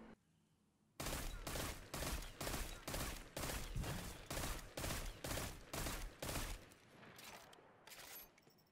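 Rapid pulse-rifle bursts from the Magnum Shepherd kinetic pulse rifle fired from the hip in Destiny 2, a steady run of loud, evenly spaced volleys, roughly a dozen, continuing for several seconds with no talking.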